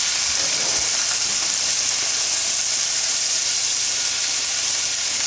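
Strips of bacon, eight slices, sizzling and spitting in their own grease in a frying pan, a steady dense hiss that stays loud and unbroken throughout.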